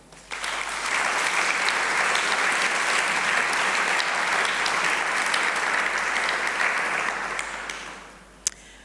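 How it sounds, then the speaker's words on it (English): A ceremony audience at the Kofi Annan NextGen Democracy Prize gives the 13 shortlisted candidates a full, even round of clapping that lasts about eight seconds and then tapers off with a single late clap. "I just wanted us to give a round of applause to the 13 who were shortlisted."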